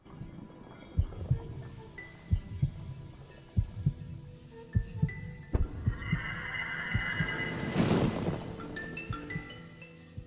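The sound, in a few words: heartbeat in video game King's Quest 8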